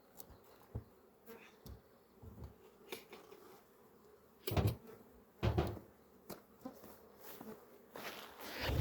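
Honey bees buzz steadily around an open hive while a beekeeper swaps brood frames during queen rearing. The drone stays continuous and close, and soft knocks of frames and wood break in now and then.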